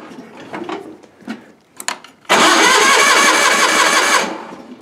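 An old tractor engine cranks with a few sputtering attempts, then catches and roars loudly into a steady close running rattle before easing off.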